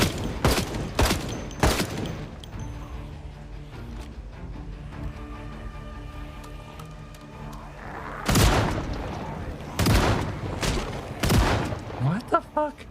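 Shotgun blasts in the zombie survival game Project Zomboid: three sharp booming shots in quick succession, then a quieter stretch of low background sounds, then several more loud blasts spaced about a second apart, with a voice speaking at points.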